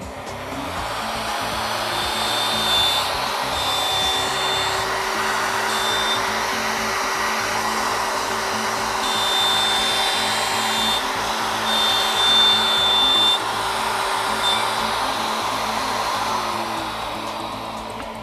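Router cutting a circle in ABS plastic, a loud steady high-pitched motor whine with a shrill cutting tone that comes and goes as the bit moves through the material, with no voices.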